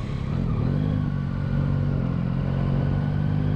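A Yamaha Tracer 9 GT motorcycle engine drones loud and close, a steady throaty rumble that swells slightly partway through and holds, with no voices over it.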